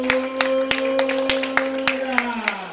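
Congregation clapping in steady rhythm during acclamation at a church worship service, a run of sharp, evenly spaced claps over sustained singing and a held musical tone.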